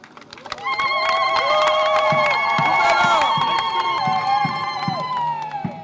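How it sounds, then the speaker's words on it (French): Loud crowd applause and cheering at a public road-construction launch ceremony in Bandundu, Congo, fill the space, steady and sustained, with music-like tones ringing over the clapping. "Félix Antoine Tshisekedi Tshilombo, dont je sollicite les applaudissements."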